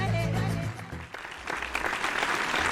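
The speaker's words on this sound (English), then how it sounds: "You hear that applause?" Canned applause plays on a Formula 1 podcast, a dense burst of many clapping hands that swells and stays loud for several seconds after music fades.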